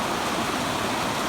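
Rainwater spills steadily from a barn roof gutter during a heavy summer rain shower, a dense, continuous rushing splash heard close and alone with no talking.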